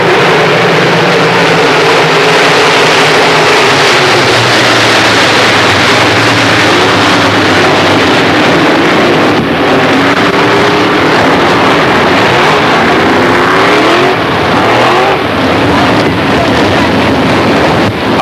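Late model stock cars roaring off turn four on a restart during a 1996 Super Series feature race, a loud, continuous engine drone with wind buffeting the microphone throughout.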